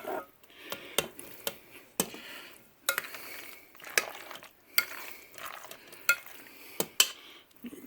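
Potatoes being stirred and folded into potato salad in a bowl, giving a run of wet, soft stirring scrapes and clinks of a utensil at an irregular rhythm, close and moderately loud with no talking.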